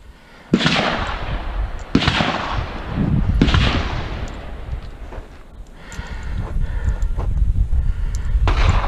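An F1 rifle fires a magazine outdoors: three loud, sharp shots about a second and a half apart, each trailing into a brief echo, followed by a lower rumbling noise.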